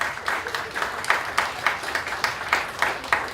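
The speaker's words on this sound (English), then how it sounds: "Big round of applause for Will." Audience applause at a spring recital as a performer named Will comes up, heard as steady, rhythmic clapping with regular accented beats, fairly close and with no talking.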